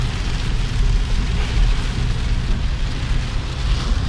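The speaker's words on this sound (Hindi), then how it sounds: "ये देखें कितनी तेज़ बारिश है" Heavy rain lashes down in Jazan, Saudi Arabia, while strong storm wind roars through it: a loud, continuous low rumble and buffeting under a steady hiss of rain, with no speech.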